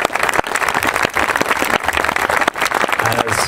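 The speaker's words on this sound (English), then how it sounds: "have a round of applause for Cassandra" Loud, close applause from a ceremony audience honoring a performer named Cassandra, a dense, continuous patter of many hands with faint voices beneath.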